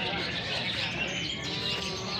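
A long-tailed shrike sings at a songbird contest amid a dense, continuous chorus of chirping birds, a busy, crowded wall of calls.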